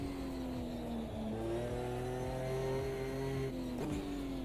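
Race car engine in Automobilista 2, steadily revving through the gears with rising whines and quick drops at each shift, heard close and alone.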